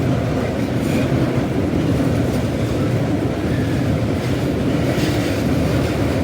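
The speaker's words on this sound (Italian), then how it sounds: "Il treno regionale di Trenitalia, proveniente da Venezia Santa Lucia e diretto a Bassano del Grappa, delle ore 16:40, è in arrivo al binario 12." A Trenitalia regional train from Venezia Santa Lucia to Bassano del Grappa arrives at a station platform with a steady, dense rumble and clatter of wheels on rails, loud and continuous throughout.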